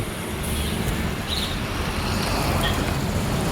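Highway traffic streams past in a steady broadband roar of passing vehicles, with no clear voices over it.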